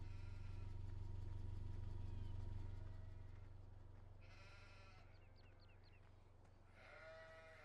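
Sheep bleat a few times in Farming Simulator 17, short clear calls near the end over a loud, steady low engine-like drone that fades partway through, with no talking.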